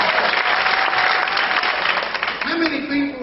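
Comedy club audience clapping loudly and continuously at a stand-up show, a thick wash of many hands that eases slightly near the end as a voice comes in over it.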